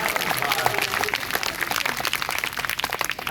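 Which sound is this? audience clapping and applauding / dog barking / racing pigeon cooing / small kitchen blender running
audience clapping and applauding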